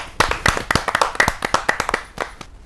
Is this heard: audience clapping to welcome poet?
yes